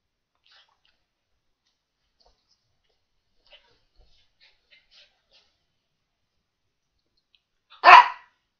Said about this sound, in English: who do you think you're barking at?